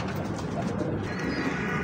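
An Amamdin pigeon gives soft, low cooing up close, under faint background noise.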